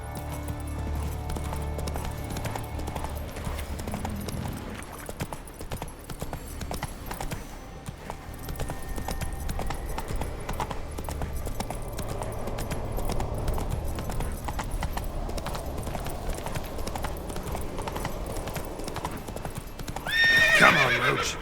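Horse hooves clip-clop steadily in The Witcher 3: Wild Hunt video game, a continuous trotting rhythm with a whinny near the end.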